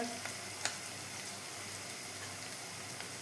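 Turmeric and spices sautéing in hot oil for matar kadhi, a steady close sizzle with a few sharp pops near the start.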